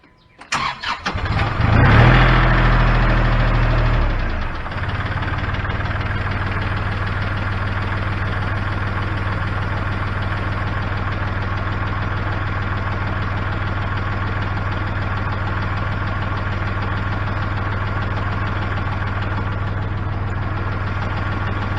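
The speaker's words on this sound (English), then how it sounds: "we have to start the engine, make sure it's not leaking anywhere" A Kubota L3560 tractor diesel engine cranks and catches, roaring briefly before settling into a steady, close, even idle that runs on alone.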